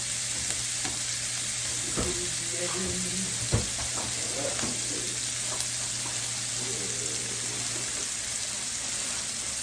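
Lamb chops fry in a pan with a steady, close sizzle, broken by a few sharper crackles and light clinks from moving the meat, with no talking.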